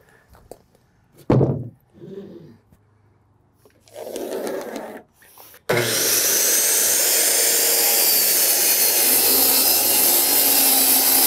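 Handsaw cutting a wooden board for a shed wall, a few brief knocks and scrapes first, then a steady, loud, continuous rasp of sawing close by for several seconds.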